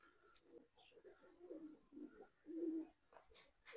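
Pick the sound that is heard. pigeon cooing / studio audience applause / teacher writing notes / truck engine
pigeon cooing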